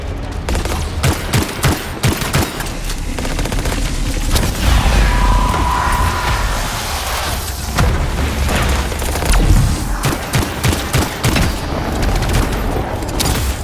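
Dense combat gunfire from the video game Anthem: bursts of automatic fire and booming blasts pile up steadily and loudly for the whole stretch, with a brief high whine in the middle and no voices.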